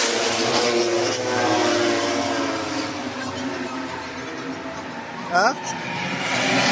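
Motorcycle engine revving up close in a village setting, a steady loud roar with harmonic bands held throughout and a brief higher surge near the end, with people talking over it.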